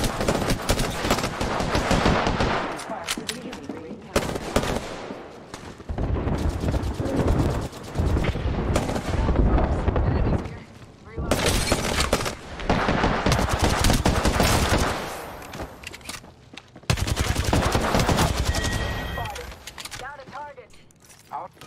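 Gunshots ring out in the video game Apex Legends as repeated bursts of rapid automatic fire, loud and close, broken by brief pauses, with a voice talking at times.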